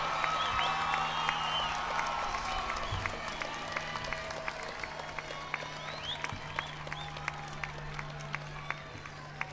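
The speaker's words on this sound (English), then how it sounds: "Now give them a round of applause." Graduation ceremony audience at Santa Monica College breaking into applause, a dense wash of clapping from a large crowd, moderately distant, with some voices mixed in.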